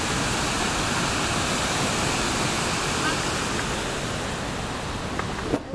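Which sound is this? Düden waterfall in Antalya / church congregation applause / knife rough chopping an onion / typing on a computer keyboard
Düden waterfall in Antalya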